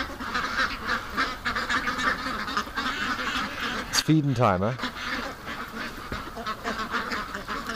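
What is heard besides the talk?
ducks quacking and honking at feeding time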